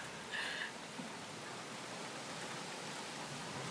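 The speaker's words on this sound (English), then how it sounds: "Hope it keeps raining all day long." Rain falls outdoors as a faint, even hiss that holds steady throughout, with only a slight swell near the start.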